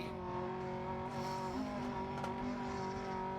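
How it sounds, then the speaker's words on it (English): A rally car engine roars in the video game Dirt Rally 2.0, a sustained, strained drone that shifts pitch as the car accelerates, with brief tire squeals partway through and no talking. "Oh, the roar of this engine."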